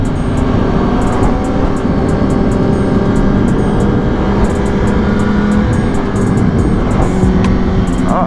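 Loud, continuous engine roar of an Aprilia RSV4 1100 Factory and a Ducati V4 superbike at speed, heard close from a riding motorcycle, with steady high revving and wind noise throughout and no talk.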